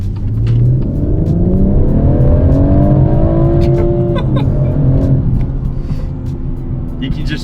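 A BMW M140i accelerates hard, its engine roaring up in pitch through the revs before a gear change drops it back, loud and close inside the cabin, with brief bits of talk.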